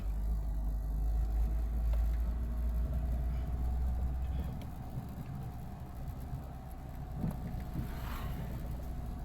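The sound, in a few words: automatic-transmission vehicle driving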